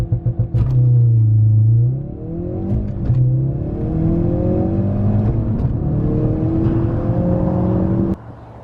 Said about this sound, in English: Alright, so I'm going to try out the launch control here.